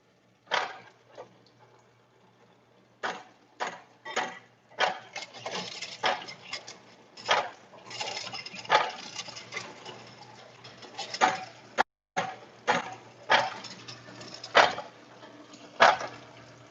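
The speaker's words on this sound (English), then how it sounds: "So the egg is fed into the machine every 6 seconds." An egg-feeding machine runs close by, giving off a steady series of irregular mechanical clicks and clatters over a low continuous hum, with a brief break near the end.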